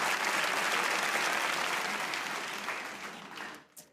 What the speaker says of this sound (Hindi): एक बार तालियां हो शाहिद आफरीदी के लिए